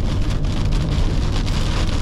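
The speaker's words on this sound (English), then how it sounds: "I guess we're gonna run into a little bit of rain." Steady rain drums on a car while driving back from the yard in Florida, a dense, constant hiss with a low road rumble underneath, close and fairly loud throughout with no talking.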